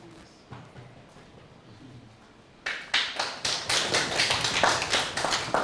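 An audience of Lake Region farmers at a Kisumu farmers' forum is quiet with a few light taps, then breaks into loud, close, rhythmic clapping that lasts to the end.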